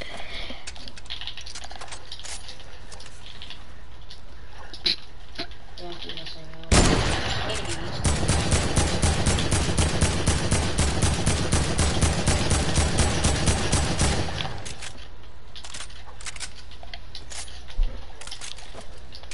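A rapid burst of AK automatic gunfire in a video game runs continuously for about eight seconds, loud and evenly spaced, set against quieter background clicking before and after.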